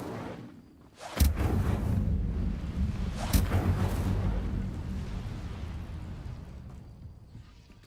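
A fire spell cast in Hogwarts Legacy bursts out with a sharp whooshing blast, followed by a second burst a couple of seconds later and a long, roaring rumble that slowly fades.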